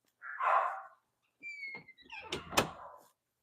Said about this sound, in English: I'm gonna shut the door real quick.